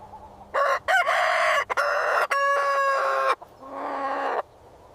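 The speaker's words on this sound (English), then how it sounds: "Cock-a-doodle-doo." A rooster crows loudly in several harmonic bursts, with short gaps between phrases and a final drawn-out call, with no other sounds around it.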